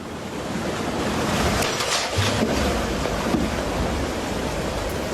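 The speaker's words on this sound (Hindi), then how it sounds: "और उसके बाद देखिए कैसे सड़कों पर तेज सैलाब बहता हुआ नजर आ रहा।" Floodwater rushes through city streets after a cloudburst of 143 mm of rain in one hour, a steady loud broadband roar of water with no pauses throughout.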